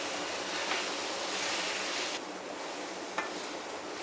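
Tomatoes fry in a pan with turmeric, salt, whole and crushed chilies and ground cumin, giving a steady, loud, close sizzle with a brief stir-like knock partway through.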